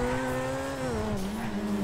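Car engine droning steadily while driving in the video game GTA 5, a smooth sustained hum that dips slightly in pitch partway through, close and continuous with no talking.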